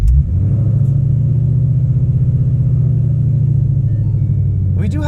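A Ford Gen 1 Coyote V8 already running at idle gives a loud, close, steady low rumble with a fast, even pulse throughout. A brief burst of noise comes near the end.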